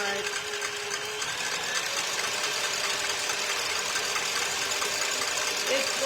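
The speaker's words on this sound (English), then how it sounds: "my mixer is really loud" An electric mixer whips three egg whites until frothy, a loud, steady high-pitched whine that runs unbroken throughout, with a faint voice underneath at times.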